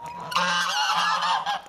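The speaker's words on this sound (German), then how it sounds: "Die Gänse sind jetzt ganz sauber," Several geese honking together in a loud, continuous nasal chorus, close by and lasting over a second.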